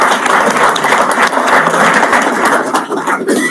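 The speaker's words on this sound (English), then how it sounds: "Let us give a big hand and applause to the entire organizing team for this." Loud, sustained applause from an audience at the inaugural ceremony of an international production and industrial engineering conference, honoring the organizing team, a dense continuous wash of clapping lasting several seconds.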